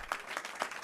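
Audience applause in a legislative committee hearing on an abortion bill, a brief burst of scattered clapping from a crowded room, fairly soft and steady.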